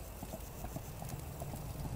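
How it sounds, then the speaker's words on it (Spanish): Horse hooves clip-clop in a quick, regular rhythm as a horse runs in the video game Kingdom, close and steady throughout with no talk over it. "A ver si logro hacer que corra el caballo, porque no siempre funciona."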